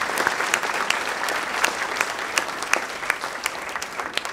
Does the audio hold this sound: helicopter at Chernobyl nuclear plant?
no